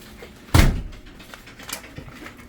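A door swings closed hard with a single loud thump, then rattles faintly as it bounces back open in a quiet workshop.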